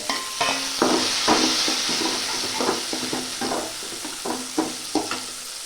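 Tomatoes sizzle and fry in a pan for a tamarind curry, with repeated stirring scrapes and clinks in an uneven rhythm over a steady hiss, heard close and alone without talk.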